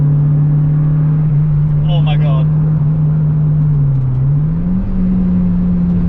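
A naturally aspirated single-cam car engine without VTEC, driven hard, gives a loud, steady in-cabin drone whose pitch wavers and climbs slightly, with a brief exclamation from a person over it.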